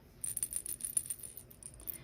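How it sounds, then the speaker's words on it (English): Shaking a cat toy wand sets off its internal rattle in soft, rapid, tinny clicking bursts, faint and close, lasting around two seconds. "but that's the sound of the rattle."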